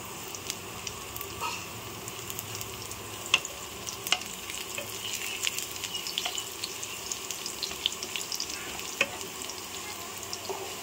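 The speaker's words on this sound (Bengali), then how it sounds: "এবার আমি রসুনগুলি তেলের উপরে দিয়ে দিচ্ছি" Garlic frying in hot oil for a taro leaf dish sizzles in a steady, close hiss with scattered small pops and crackles throughout.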